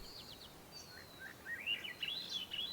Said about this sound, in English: Yeah, the birds over here seem to not be the annoying type, with the sounds in the background.